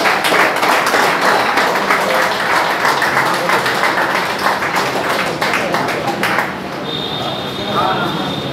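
Audience applause at a Royal Kolkata Pigeon Club prize distribution ceremony: loud, dense, continuous clapping with voices talking over it, thinning out toward the end.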